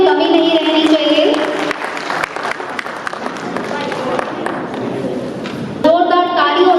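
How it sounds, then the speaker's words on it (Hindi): Applause from an audience at a stage event fills the space as a dense, sustained crowd clapping, with music and a voice over a loudspeaker around it and faint cheering mixed in. "तालियों में कमी नहीं रहनी चाहिए"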